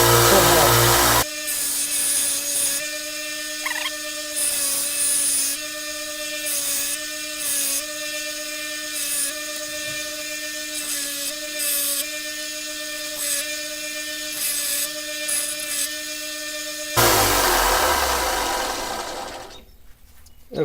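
An angle grinder flattens the faces of a railroad spike being shaped into a tomahawk, running loud and steady for most of the clip with a sustained whine, then cutting off near the end.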